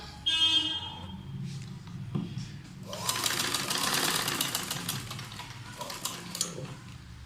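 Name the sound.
sewing machine stitching cloth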